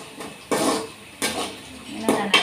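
Onions fry in a pan as a spatula stirs them in three or four broad scraping strokes against the metal, with quiet gaps between.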